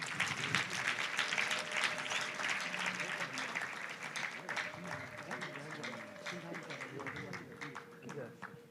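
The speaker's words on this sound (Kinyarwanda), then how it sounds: "Ni mumuha amashyi n'impundu nyinshi." Wedding guests applaud and ululate for the couple, a dense sustained crowd clapping with high trilling cries, steady and loud throughout, with voices mixed in.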